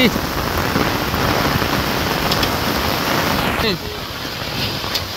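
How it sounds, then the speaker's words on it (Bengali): Heavy rain pours down in a dense, loud, continuous hiss that drops slightly in level near the end, with no clear talking. "প্রিয় দর্শক দেখুন প্রচুর পরিমাণে কিন্তু বৃষ্টি হচ্ছে।"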